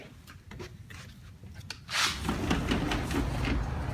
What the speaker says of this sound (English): Let's go out the door here.